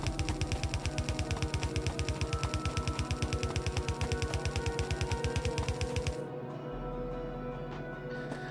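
Gun turrets in Factorio fire a rapid, even stream of loud clattering shots for about six seconds, then stop abruptly, leaving a low hum of background machinery.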